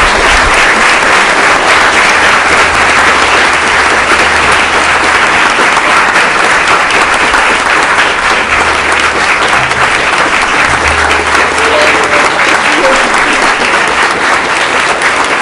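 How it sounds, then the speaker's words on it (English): Sustained, loud applause from a council meeting audience, dense and steady clapping filling the room without pause for about fifteen seconds. "And Katie Sorensen, please give her a round of applause"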